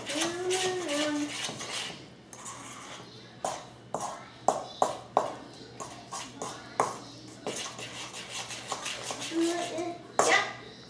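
A spoon clinks and scrapes against a bowl while brownie mix and egg are stirred, in a run of irregular knocks and taps, as a mother and someone talk between them.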